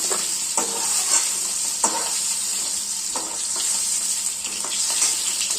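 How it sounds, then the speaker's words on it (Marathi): Snake gourd (padwal) frying in oil, a loud close continuous sizzle with periodic scraping strokes as the pieces are flipped over and over. "खालीवर खालीवर करून घ्यायचं असे चांगले डाग पडेपर्यंत फ्राय करून घ्यायचे"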